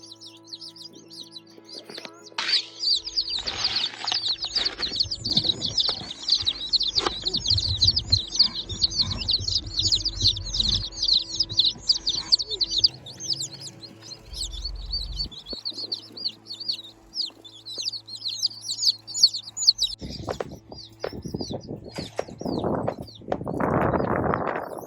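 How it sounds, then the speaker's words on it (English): Baby chicks from a mail-shipped batch chirp continuously in the background, a dense high peeping chorus with intermittent handling noises and thumps near the end. "So you can hear the chicks in the back."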